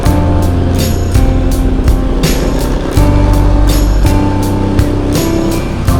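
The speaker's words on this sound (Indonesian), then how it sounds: "Mobil-mobil masih banyak yang lewat ini" Cars and traffic passing on the Puncak mountain road at night, a loud, continuous engine rumble with repeated whooshes as vehicles go by, heard from inside or near a moving vehicle.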